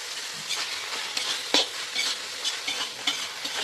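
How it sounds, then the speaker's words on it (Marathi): Paneer bhurji stirred in a pan, repeated scraping strokes of a spoon over a steady hiss of frying, close and fairly loud, with no talking. "त्याला चांगलं पद्धतीने मिक्स करून घ्यायचं."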